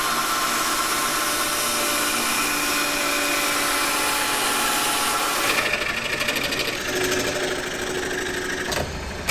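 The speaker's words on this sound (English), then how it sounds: "And then cut them using a jigsaw machine." A jigsaw cuts through curved sheets of flexible plywood with a steady, close buzzing rasp, the tone shifting partway through as the cut changes, then stopping abruptly near the end.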